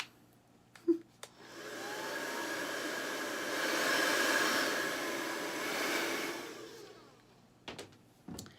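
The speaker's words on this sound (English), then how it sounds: "let's hit this with a blow dryer and we'll do the other side" A hair dryer blows with a steady whooshing roar for several seconds, swelling slightly, then switches off, with a few clicks at start and end.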